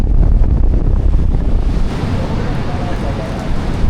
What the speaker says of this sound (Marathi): आज पाण्याला, समुद्राला एवढा उधाण आला आहे ना, भरपूरच